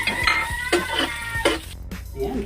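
Onion and garlic are sautéed in a pan for spicy chicken curry: a close, busy sizzle runs under repeated scraping and tapping of a spoon or spatula against the metal, in an irregular stirring rhythm.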